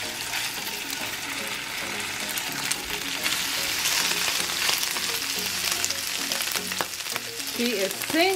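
Surf and turf seasoned with tarragon, red pepper flakes and garlic sizzles loudly and continuously in a pan, with dense crackling and spattering throughout. A voice is faintly heard near the end.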